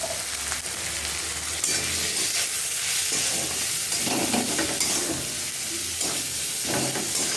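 Chopped tomatoes and turmeric fry in hot oil in a home kitchen pan. A steady, loud sizzle and hiss runs throughout, with stirring scrapes rising and falling on top.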